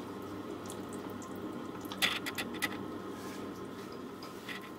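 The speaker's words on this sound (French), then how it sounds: "J'y ajoute mon bouillon." Broth pours into a pot for pot-au-feu, a short burst of splashing and trickling liquid in the middle, over a quiet kitchen background hum.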